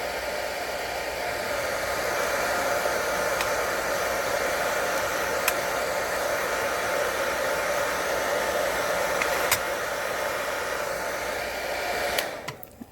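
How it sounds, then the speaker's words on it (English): Hot hair dryer blowing steadily and loudly for about twelve seconds while warming polymer clay on a tile, a constant airy roar that cuts off abruptly at the end, with no one talking. "if you have a really nice hairdryer that gets really hot, you might want to"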